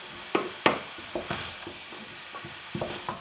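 Butternut squash starting to cook in a saucepan, heard as a soft sizzle under a series of irregular spoon knocks and scrapes against the pan, fairly quiet and close.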